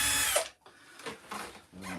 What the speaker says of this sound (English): I should have countersunk those holes.